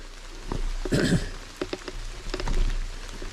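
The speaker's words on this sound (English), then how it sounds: "it's raining, so that's nice. Really cooled me off." Rain falling on a forest trail in the North Georgia mountains, a soft steady patter with scattered sharper drops and splats close by, no voices.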